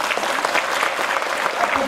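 Steady applause from an audience at a school celebration, dense and continuous throughout, with a voice faintly audible beneath the clapping.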